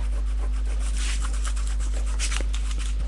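Dried masking fluid is rubbed off a copper surface, producing a steady, close scratchy rubbing with a loud low hum running underneath throughout.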